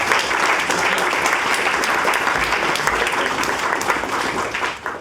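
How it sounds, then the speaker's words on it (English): Audience applause after a live brainwave demonstration at a talk, dense and loud clapping that continues steadily for several seconds before tapering at the end. "huge round of applause for Kieran."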